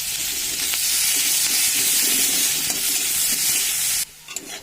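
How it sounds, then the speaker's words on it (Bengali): Chopped onions fry in oil in a karahi to make crisp birista. A loud, steady sizzle with faint stirring scrapes continues close by, then cuts off abruptly near the end, leaving a few brief clinks. "এবার দিয়ে দেবো আমি পেঁয়াজ কুচনো। এগুলো দিয়ে আমি বেরেস্তা ভেজে নেবো।"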